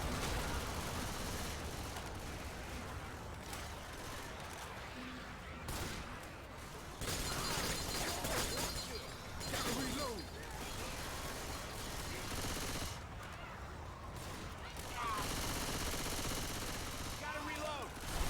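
Gunfire in a Left 4 Dead versus match, repeated rattling automatic bursts and shots spread across a busy, noisy scene, fairly faint in the mix, with voices intermittently present.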